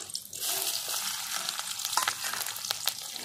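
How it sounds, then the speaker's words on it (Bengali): Nigella seeds, chopped onion and slit green chili hit hot oil, crackling and sizzling loudly, with sharp pops and spattering over a constant hiss. "এবার আমার তেল গরম হয়ে গেছে, তেলের উপরে দিয়ে দেবো কালো জিরে ফোড়নে, দেবো পেঁয়াজ কুচি আর লঙ্কা"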